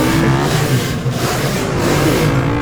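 Loud, continuous engine revving in GTA San Andreas with pulsing roars that rise and fall, several modded Honda MSX motorbikes droning together close up without a break.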